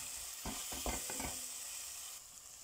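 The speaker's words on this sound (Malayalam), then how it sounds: "കുരുമുളക് പൊടി നല്ലപോലെ ഒന്ന് വഴറ്റി കൊടുക്കാം." Chicken sautés with black pepper powder in a pan, a soft, steady sizzle with a quick run of stirring scrapes early on, then continuing gently.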